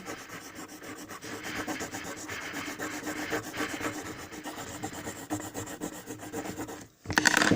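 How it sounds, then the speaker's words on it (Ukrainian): A green colored pencil scrubs back and forth across paper, a close, steady rasping rub with quick repeated strokes that pauses briefly near the end. "Беремо зелений олівець і закрашуємо"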